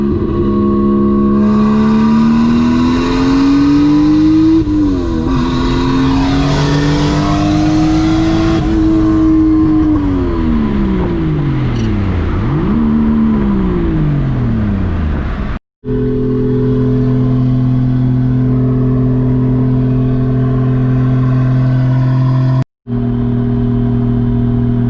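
A Lexus IS300 with a CD009 six-speed gearbox revs hard, its engine note climbing and falling through several pulls before settling into a steady loud idle, with two brief cutouts near the end.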